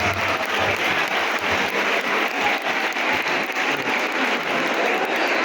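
A standing crowd at a Veer Bal Diwas event claps for the chief guest: thick, continuous applause holds at a steady, loud level throughout.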